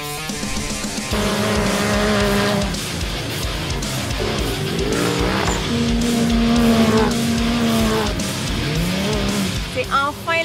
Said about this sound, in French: On entend les moteurs